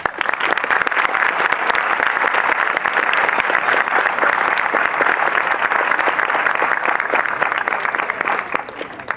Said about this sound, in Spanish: Les pido para ellos un fuerte aplauso.